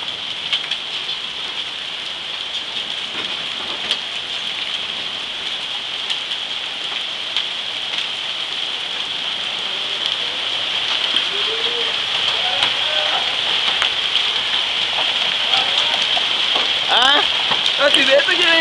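Hail starts to fall at the start of a hailstorm in Vittorio Veneto, a dense steady patter of hailstones on surfaces close by that grows slightly heavier toward the end, with a few faint voices underneath.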